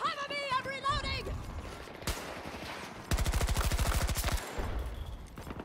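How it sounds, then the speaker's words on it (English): Rapid automatic rifle fire from an AR-68 in Battlefield 2042, a dense burst of about a second of evenly spaced shots, preceded by a single loud crack and chaotic game sound with a voice nearby. "Getting beamed by the AR-68 all the time."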